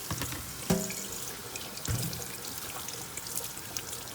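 Tap water runs into a sink while produce is rinsed under it for a spaghetti and meat sauce, a steady close splashing flow with two brief knocks of handling.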